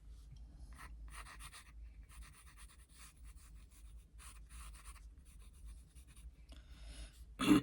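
Pencil scratching across paper in a contour drawing, a steady run of soft, close strokes with short pauses between them, quiet and alone.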